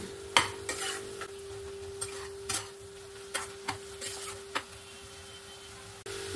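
A spoon stirs and scrapes coconut filling mixed with milk powder in a pan for pitha, making soft, irregular scraping strokes over a quiet steady hum, with no talking.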